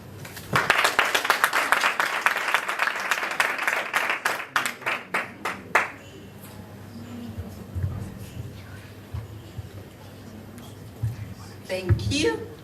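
Audience applause at a university faculty research day session, a dense burst of many hands clapping for about six seconds that thins into scattered claps, then fades into room murmur and quiet talk.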